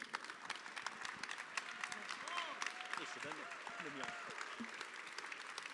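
Audience at an ecologist party conference in Coutances breaks into sustained applause, a dense, steady wash of many hands clapping, with voices and cheers mixed in throughout.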